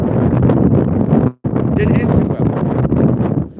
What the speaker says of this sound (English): it's a little windy. Sorry about the wind,